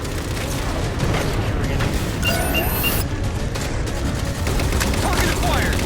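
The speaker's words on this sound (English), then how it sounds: "Target those phantoms for the railgun to shoot down." A Halo 4 railgun fires on Covenant Phantoms amid heavy battle noise, with rapid mechanical bursts, booming impacts and continuous loud gunfire that stays dense and close throughout.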